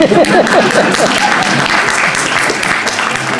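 Audience applause fills a lecture hall during a juggling demonstration of four-beat throws, dense and steady for a few seconds, with faint voices near the start.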